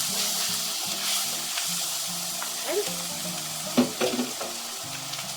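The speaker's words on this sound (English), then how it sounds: "press my garlic into it and let it cook for about 30 seconds or so" Minced garlic sizzles steadily in hot oil in a pot for white chicken chili, with a close, continuous hiss, a few louder spatula scrapes and stirs near the end, and one brief spoken word.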